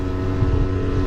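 An Aprilia SR 50 scooter engine accelerates with a steady, loud, buzzing drone that stays close throughout the short stretch, with no voices.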